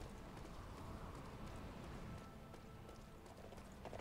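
Horse hooves galloping in the video game Dynasty Warriors 9, a quiet, steady clip-clop rhythm mixed with a rain-like patter, heard alone.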